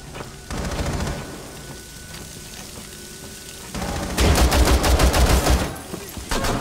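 Rapid bursts of gunfire in a Rainbow Six Siege match, first a quieter stretch of scattered shots and then a loud dense volley of repeated rounds in the final seconds.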